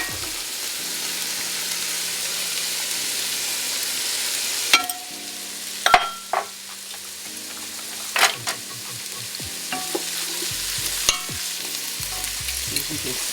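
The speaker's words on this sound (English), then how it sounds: "So we'll put our carrots in, and we will put our onions and garlic and celery." Carrots, onions, garlic and celery tipped into a hot pot for vegan soul food soup, a steady crackling sizzle with several sharp knocks and scrapes of stirring, close and even in level, no one talking.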